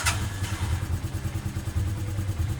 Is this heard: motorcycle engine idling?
yes